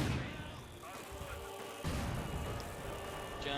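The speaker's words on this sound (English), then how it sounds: "German mortars causing quite a few problems." German mortar fire in a Company of Heroes 2 match, heavy booming impacts and blasts rolling through a dense battle din, with a commentator talking over the action.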